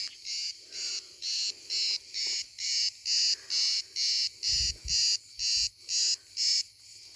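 Crickets chirp among olive trees in steady pulsing bursts, about a dozen evenly spaced trills carrying loud and close, with a few low thumps partway through.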